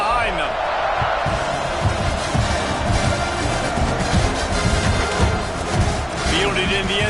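Stadium crowd in the NCAA 26 college football video game, a dense, steady roar of cheering that keeps going with a few small surges, underneath play-by-play commentary.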